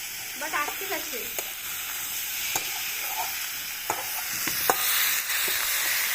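Meat frying in a pan, a steady close sizzle and hiss, with a few sharp crackles and scraping stirs, plus a brief faint voice near the start.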